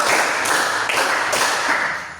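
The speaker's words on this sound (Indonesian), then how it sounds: "Guru berkata tepuk 4 kali" Four sharp claps ring out at an even pace in a classroom clapping game, close and fairly loud over a noisy room.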